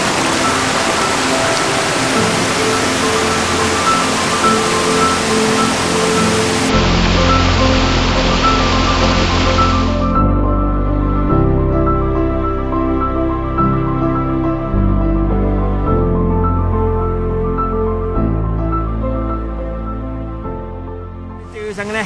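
Blue Mountain Falls on the Isle of Skye pours with a loud, steady roar of rushing water that stays close and constant throughout, with no voices.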